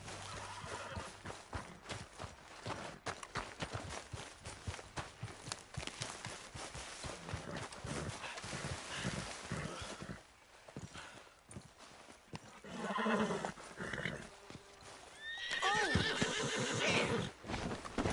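In the video game Red Dead Redemption 2, rapid clip-clopping horse hooves run steadily, then the horse whinnies loudly near the end, with a faint scuffle in between.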